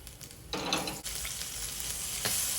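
Green chillies, slit in two, hit a hot oiled pan and start to fry: a sudden sizzle swells in and keeps hissing steadily and close, with brief sharper spits.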